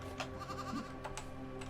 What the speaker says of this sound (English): What's this sheep here?